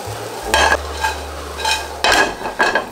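Small croutons being sautéed in a pan give a close sizzle broken by repeated scraping stir strokes, about five bursts at an easy, unhurried pace.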